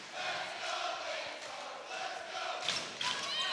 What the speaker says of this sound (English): what a nice Friday afternoon crowd